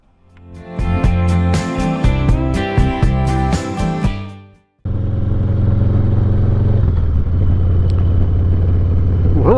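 A Harley-Davidson motorcycle with heated grips on a winter ride, its engine rumbling loud and steady, first with rhythmic revving pulses, then a continuous deep drone with wind noise after a brief cut.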